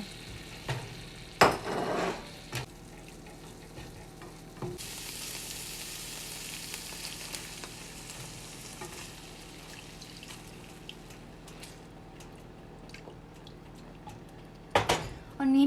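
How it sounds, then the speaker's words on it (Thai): Chicken sizzles and hisses as it is stir-fried in a hot pan for green curry macaroni, with scraping and clinks of a utensil, steady frying throughout at close range. "ผัดไก่ลงไป"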